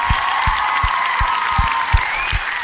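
Studio audience applause welcoming actor Sanjay Pandey on a comedy talk show stage, a steady dense patter of clapping with a few louder claps standing out, close and loud throughout.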